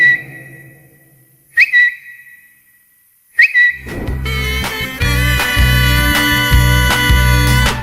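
Twitter's audio logo: two short bright chirping whistle notes, then a loud full musical phrase that carries on to the end, with no speech.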